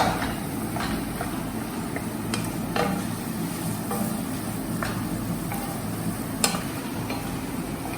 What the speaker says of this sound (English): So you have to saute this nicely till it is all cooked.